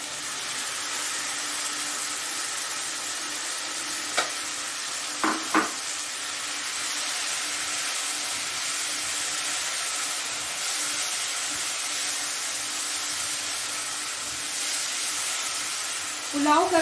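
Masala being sautéed with fried brinjal and cauliflower in oil for Indore pulao: a steady soft sizzle runs throughout, with a few brief utensil scrapes and clinks near the middle and a louder stir at the very end.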